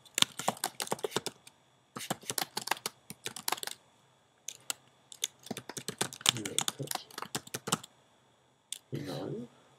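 Typing on a computer keyboard into an online text pad, bursts of quick close clicks separated by short pauses, with light speech between the bursts.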